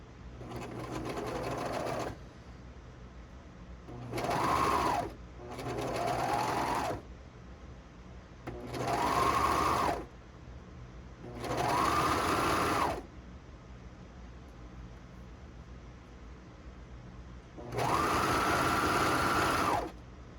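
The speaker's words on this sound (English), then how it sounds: "so now I'm just sewing up the edge to the point and off." A sewing machine stitches the edge of a maxi dress in six separate runs, each a steady close whirring burst lasting one to two seconds, separated by quiet pauses.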